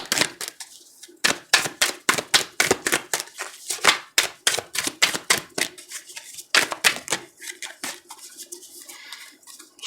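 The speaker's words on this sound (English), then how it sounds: "Shuffle, shuffle." Tarot cards are shuffled in rapid bursts of crisp riffling and slapping, repeating in quick irregular rhythm close by, with no talking.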